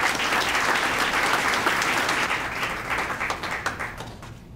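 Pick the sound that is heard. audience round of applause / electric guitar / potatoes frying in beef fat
audience round of applause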